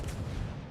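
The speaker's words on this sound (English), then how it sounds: "Let's see if I can get another salvo off here" A battleship's main guns fire a salvo in a naval video game, producing a deep, rumbling boom that rolls on heavily and fades over a fraction of a second.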